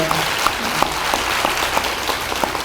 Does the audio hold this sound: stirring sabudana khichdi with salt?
no